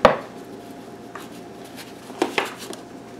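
Hamburger meat dropped into a mixing bowl gives a sharp thud at the start, followed by a few faint soft taps and knocks against the bowl, close and quiet.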